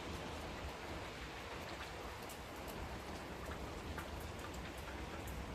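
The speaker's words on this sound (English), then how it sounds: "Look at that rain coming down." Steady rain pours down beside a canal, a dense even hiss of drops striking water and hard ground, with scattered louder splashes close by and no voices.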